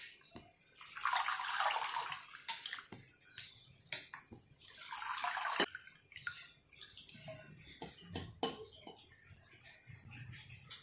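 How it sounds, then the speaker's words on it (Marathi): Fresh coriander leaves being washed in water, with two bursts of splashing and running water followed by softer drips and handling sounds. "आता अशाच पद्धतीने आपण कोथिंबीर धुवून घेणार आहोत."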